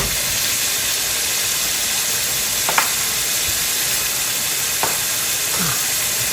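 Meatballs drop into a pan of frying spice masala, giving a steady close sizzle with a few sharper crackles and spits along the way.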